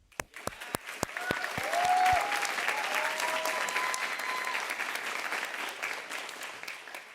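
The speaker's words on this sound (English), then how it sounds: "take a quick second to give you all a round of applause" A GDC end-of-year event audience applauds interns, starting with a few distinct claps that swell into sustained clapping, then gradually thinning out, with some cheering voices.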